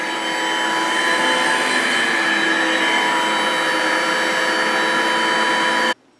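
A vacuum cleaner runs steadily and loudly at close range during dining-room spring cleaning, with a constant drone that cuts off abruptly near the end.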